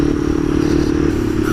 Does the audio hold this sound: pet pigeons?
no